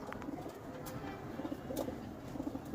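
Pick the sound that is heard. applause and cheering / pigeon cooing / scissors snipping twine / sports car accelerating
pigeon cooing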